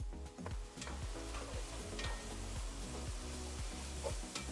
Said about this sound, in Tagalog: Tapos halu-haluin nyo lang. Hanggang sa medyo matusta tong ground beef.